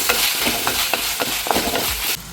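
Curry leaves go into a hot pan of oil and crackle close by, while repeated stirring strokes add a rhythmic scrape over the continuous sizzle.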